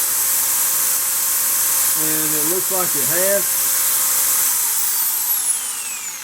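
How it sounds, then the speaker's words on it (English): A lathe whirs with a steady high hiss of sanding against a spinning spalted walnut vase, while someone briefly speaks over it. "All I'm doing here is just making sure that my first sanding gets rid of all the marks"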